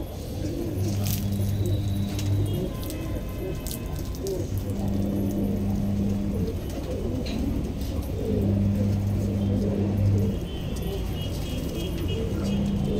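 Lalband pigeons at a bird sale in Inderlok, New Delhi, give low, repeated cooing phrases in steady bursts over a busy, noisy market background, with some talk nearby.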